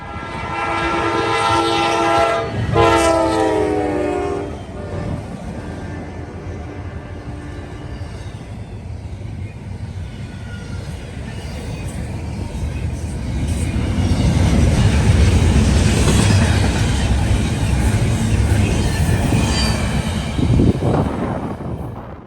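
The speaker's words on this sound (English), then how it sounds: "westbound intermodal train 269 came flying up" A loud train horn blasts near the start as a westbound intermodal freight train in northern Ohio approaches and rumbles past close by, wheels clattering in a long swelling roar.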